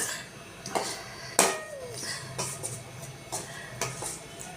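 Mango pachadi with jaggery being stirred in a pan, with a few sharp utensil scrapes and clinks against the metal spaced irregularly over steady low background noise.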